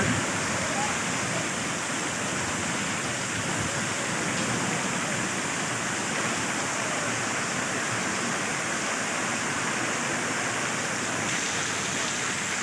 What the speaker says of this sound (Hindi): इतनी शदीद किस्म की बारिश होने लगी है